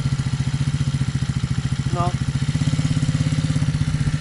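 A motorcycle engine in second gear is given gentle throttle, a steady low throb rising slightly in revs; a person talks over it.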